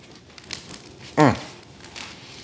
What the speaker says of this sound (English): That's kind of hard to scissor.